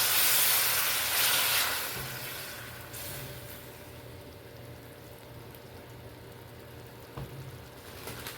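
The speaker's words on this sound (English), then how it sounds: "now we're going in with my onion and garlic. Get that sauteed." Onion and garlic sauté in a hot pot for Cuban congri, a steady close sizzling hiss that starts loud and eases slightly, with no talking.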